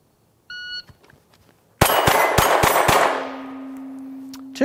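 A pistol with a compensator firing 124-grain +P Federal HST ammunition: a timer beep, then five loud rapid shots in quick succession ringing out, followed by a sustained electronic tone.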